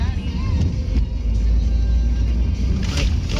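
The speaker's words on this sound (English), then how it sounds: "There's too many cars here." Dense street traffic in the Philippines, with a steady low rumble of many car engines close by and a brief passing whoosh near the end, while people talk over it.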